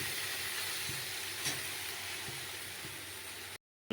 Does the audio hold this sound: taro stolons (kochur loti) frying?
yes